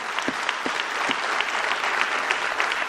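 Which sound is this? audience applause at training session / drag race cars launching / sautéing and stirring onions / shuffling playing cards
audience applause at training session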